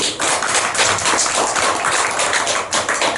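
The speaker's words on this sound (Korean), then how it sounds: "우리 한번 박수 한번 쳐주실래요?" A church congregation clapping at a 12th anniversary thanksgiving service, dense and loud sustained applause from many hands filling the room without pause.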